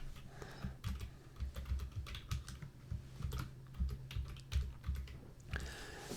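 Typing on a computer keyboard, entering a short text label in video editing software; a steady run of quick, close key clicks with a low background hum and no talking.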